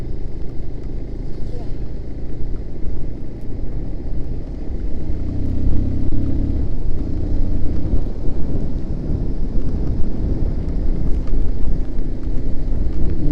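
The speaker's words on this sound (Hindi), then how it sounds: "मुझे लग रहा बारिश बढ़ रही है।" Heavy rain and thunder during a motorcycle ride through Himachal, heard as a loud, continuous low roar and wash of rain with wind buffeting the microphone throughout.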